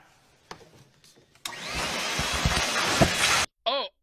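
A vacuum cleaner switches on with a sudden whine, runs loudly for about two seconds and cuts off, preceded by soft knocks and followed by a short warbling squeal.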